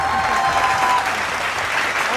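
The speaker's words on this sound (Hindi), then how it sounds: "एक बार फिर तालियां हो जाए।" A studio audience claps steadily at a televised interview, the dense, loud applause running unbroken for a couple of seconds with no talking over it.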